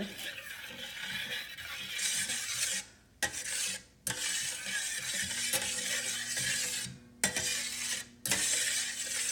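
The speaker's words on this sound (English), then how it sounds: "Let me give it another stir." Gravy stirred in a small dipping bowl, a steady close scraping and rubbing that runs throughout, broken by a few brief pauses and soft clicks.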